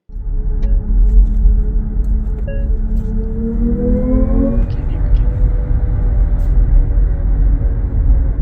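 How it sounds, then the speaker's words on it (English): Dodge Charger Daytona EV running its Fratzonic synthetic exhaust: a loud, steady droning rumble with tonal layers that swell and climb in pitch midway, then settle into a constant roar, with no talking. "the Fratsonic exhaust on the Charger is a unique feature, but it's not unheard of"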